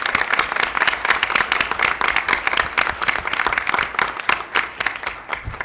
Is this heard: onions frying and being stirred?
no